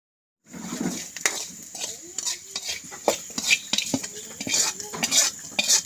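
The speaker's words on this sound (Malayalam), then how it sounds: "ഇനി ഒന്ന് കടുക് വറുത്തൊഴിക്കട്ടെ" Mustard seeds tempered in hot oil for an okra curry crackle and sizzle in a pan, with repeated sharp clinks and scrapes of a stirring spoon.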